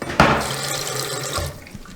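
A bathroom sink faucet runs water in a steady, close splashing stream, starting with a brief clunk and easing off toward the end, with no voices.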